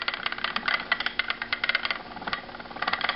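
A hand-operated spinning wheel spinning cotton into fine yarn gives a steady stream of quick, close, moderately loud clicking and whirring pulses with no talk over them.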